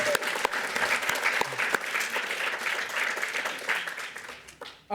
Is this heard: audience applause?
yes